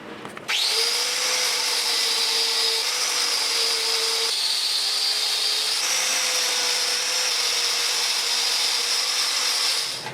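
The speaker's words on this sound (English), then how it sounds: "It's a flap disc, but with Scotch-Brite on it." An angle grinder fitted with a Scotch-Brite flap disc works a motorcycle's front forks, producing a loud, steady high-pitched whine over a rough abrasive hiss that runs unbroken for about ten seconds with no talking.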